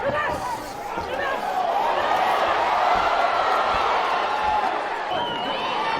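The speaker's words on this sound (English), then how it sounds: "The El Paso crowd reacted immediately to Holm coming in behind her head the way that she did" Boxing arena crowd in El Paso roaring and cheering in reaction to a punch during a women's bout, a sustained loud wash of many voices with no single caller standing out.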